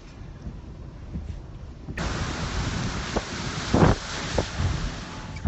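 Hurricane wind roars near the eye wall during live storm coverage, a dense, close wind rush that grows louder and gustier partway through, with heavy buffeting bursts against the microphone.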